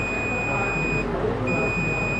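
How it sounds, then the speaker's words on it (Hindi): A multimeter beeps during a continuity test on a mobile phone circuit board. The beep is a steady, high-pitched tone that cuts out briefly midway and then resumes, heard close over a noisy background with no talk. "ये बीप साउंड कर रही है।"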